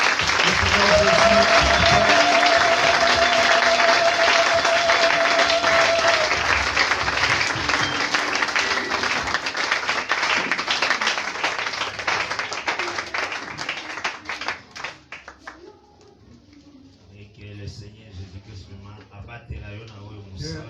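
A church congregation breaks into loud, sustained applause and cheering during a worship service, the clapping dense and steady for about fourteen seconds before thinning out, with voices mixed in throughout.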